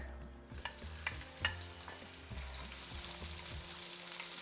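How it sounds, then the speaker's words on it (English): Onions sizzle and crackle steadily in hot oil, with occasional scraping and stirring clicks from a utensil in the pan. "Now keep frying the onions till they're nice and brown."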